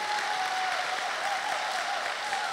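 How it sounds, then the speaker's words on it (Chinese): Audience applause at a Catholic church anniversary thanksgiving concert in Chiayi, a steady wash of clapping from a crowd held at an even level for the whole moment. "掌声，谢谢"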